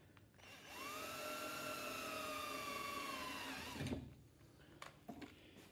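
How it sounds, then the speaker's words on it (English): A power drill bores through a metal plate laid over wood while a Peltier cooler is fitted into a box. One steady, loud whine runs for about three seconds, then stops abruptly with a clunk and a few small knocks. "We only want to drill through the metal"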